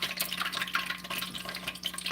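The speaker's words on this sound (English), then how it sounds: "Now that popping you hear is the water in the butter that they're supposed to get rid of" Butter sizzles and pops in a hot pan as its water cooks off while cube steaks are fried, a steady crackle of sharp little spits up close with no talking.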